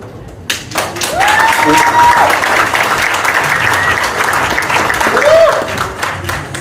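Audience clapping at an Indo-American Association For Change gathering, steady applause from a crowd that swells in after a brief pause and continues at a fairly loud, even level, with voices mixed in.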